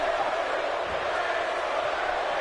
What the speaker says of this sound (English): And the crowd now getting behind Bray Wyatt.